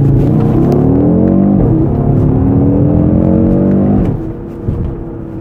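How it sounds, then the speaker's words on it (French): A green Audi RS Q3 with quattro drive accelerates hard in RS mode, its loud, steady engine drone climbing in pitch for about four seconds before easing off to a lower rumble. "si je passe en RS mode, je peux tartiner, je peux accélérer, un petit coup de gaz et ça part direct quoi"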